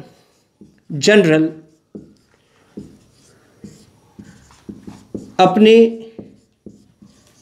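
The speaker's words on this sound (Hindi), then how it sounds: "तो आइए इसको लिखते हैं हम" A pen scratches out notes in short strokes, faint and intermittent, while a man lectures in Hindi over it.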